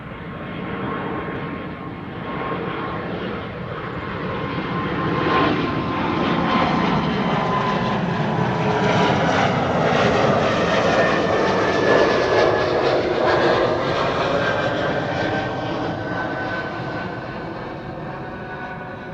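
A Nippon Cargo aircraft departs runway 24 at Schiphol, its jet roar swelling steadily to a broad, loud peak before slowly easing off, heard alone without talk.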